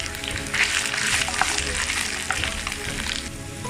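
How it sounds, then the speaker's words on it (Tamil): Chicken sizzles steadily in hot spiced oil in a pan while it is stirred and spread for a Tamil-style chicken pickle, a continuous close frying hiss with soft stirring scrapes and no talking. "சேர்த்துட்டு சிக்கன் மேலே எல்லாம் நல்லா மிக்ஸ் ஆகுற மாதிரி நல்லா ஸ்ப்ரெட் பண்ணி விடுங்க"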